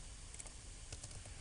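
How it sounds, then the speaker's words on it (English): Rapid typing on a computer keyboard: a faint, quick patter of key clicks over a steady hiss, with no one speaking. "So typing quickly there."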